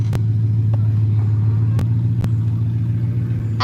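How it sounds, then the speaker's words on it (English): Truck reversing outdoors on a hot day: a steady low engine drone at close range with a few sharp clicks and knocks over it, no talk. "He's backing the truck up to get it over there."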